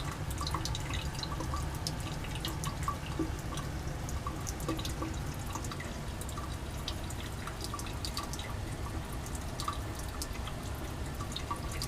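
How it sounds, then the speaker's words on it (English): Steady liquid dripping in a laboratory reflux apparatus during a Grignard reaction, small irregular drips over a constant low background hum, no voices. "it's clearly not dripping that vigorously"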